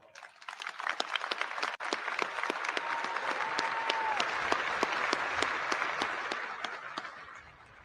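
Large graduation ceremony audience at the US Air Force Academy breaks into sustained applause, dense clapping swelling and holding steady for several seconds, with a brief whistle-like tone partway through.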